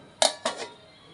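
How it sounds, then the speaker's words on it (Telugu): A lid goes onto a cooking pot of amaranth-stem and prawn curry, making two quick, close metallic clanks about a quarter second apart, then quiet. "నీళ్ళు పోసుకున్నాం కదండి మూత పెట్టుకుందాం"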